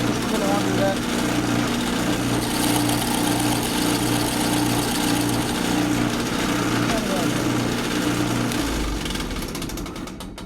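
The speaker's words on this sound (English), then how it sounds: "I suggest you drill it about the depth of the bit itself, just a little under that." A power drill bores a hole for a spring in a handmade wooden safe-style box, running steadily and loudly at close range with a continuous buzzing whine that fades slightly at the end.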